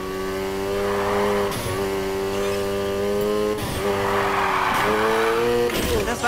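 In Need for Speed Heat, a car drifts with a loud, steady engine drone and repeated shrieking tire squeals as the revs rise and dip through the slides.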